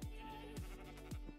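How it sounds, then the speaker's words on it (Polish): Three loud, wavering sheep bleats from Minecraft livestock sound in quick succession, close and clear, each a short falling cry with no talk over them. "Zdecydowanie owce to są najgłupsze stworzenia w tej grze."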